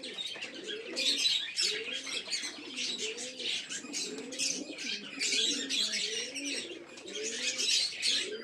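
A breeding pair of Giribaz pigeons, a chocolate male among them, coos steadily in low repeated rolling phrases, with brighter chirps from other birds layered continuously over them, close and moderately loud.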